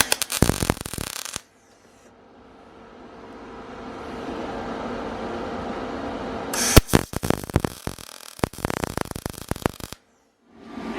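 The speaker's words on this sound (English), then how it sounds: "Would you weld your damn diff?" Electric welding on a Datsun 240Z differential, heard as loud crackling, sputtering bursts near the start and again in the second half, with a quieter steady hiss and hum in between.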